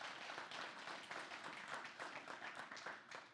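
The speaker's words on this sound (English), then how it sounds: "Yeah, you can clap for that." An audience clapping at a gathering, a lively mix of individual claps rising and falling in short waves, fairly soft and steady from start to finish, with no one speaking over it.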